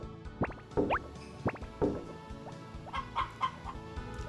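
Chickens cluck in a hen house in the Harvest Moon video game, a series of short, close clucks and squawks repeating in irregular bursts against a quiet background.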